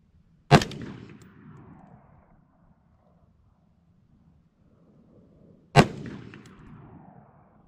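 Two loud, sharp rifle shots from an Aero Precision/Criterion rifle with a rifle-length gas system, fired several seconds apart outdoors, each a sudden crack followed by a rolling echo that fades into quiet.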